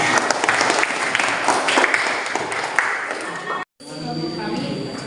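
A classroom audience applauds after a short talk on health, dense clapping mixed with murmuring voices, followed by a brief cut and quieter room sound.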